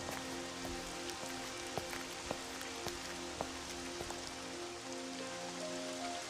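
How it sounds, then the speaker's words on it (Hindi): Heavy winter rain pours steadily onto a surface, a dense even patter with occasional louder drops, fairly soft and unbroken throughout. "आज तो बहुत तेज बारिश हो रही है।"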